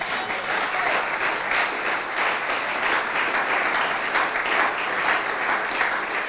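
A church congregation claps steadily and loudly in sustained applause filling the room for several seconds.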